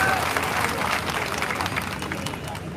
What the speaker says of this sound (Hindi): हम दोनों महानुभाव के लिए भी जोरदार तालियों से स्वागत करें।